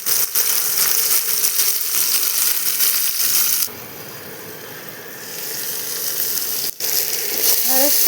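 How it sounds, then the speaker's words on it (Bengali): Okra frying in a pan for a ladies' finger and potato curry, giving a steady loud sizzle that dips briefly midway and then resumes. "ঢেঁড়সটা ভাজতে দিয়েছি"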